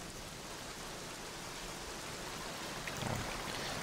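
Rain falling in the video game Black Mirror, a soft, even wash of steady downpour with no distinct drops or pauses, faint and unbroken throughout.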